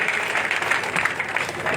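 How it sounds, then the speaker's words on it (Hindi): Crowd applause greeting a speaker at a political rally in Maniar, Ballia, steady loud clapping from many hands throughout. "जोरदार ताली बजा के स्वागत करिए।"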